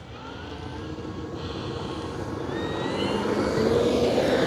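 An E-flite Carbon-Z T-28, a 2.0 m electric RC airplane, takes off with a whining motor and propeller drone that swells steadily louder over a few seconds against outdoor background, with no talk.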